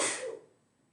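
One short sneeze bursts out and quickly fades, fairly quiet and close, alone.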